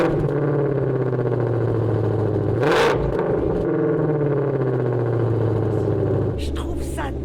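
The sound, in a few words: Ford Mustang Shelby GT500 engine starting and driving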